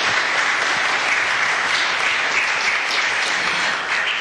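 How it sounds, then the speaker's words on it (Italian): A lecture-hall audience welcomes a speaker with sustained, even applause, many hands clapping in a thick continuous wash that only eases slightly at the end. "Ti accogliamo con un applauso."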